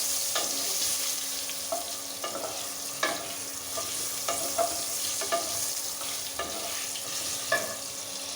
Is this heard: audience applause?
no